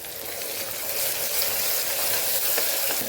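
Tomato goes into a pan of sautéing ginger, garlic, green chili and onion, giving a steady, close frying sizzle with faint stirring scrapes throughout.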